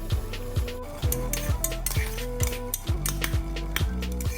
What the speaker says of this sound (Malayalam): ഇനി ഒരു 2 ടേബിൾ സ്പൂണിൻ്റെ അടുത്ത് തൈരും കൂടെ ഇട്ടിട്ട് നല്ലോണം ഒന്ന് മിക്സ് ചെയ്യുന്നുണ്ട്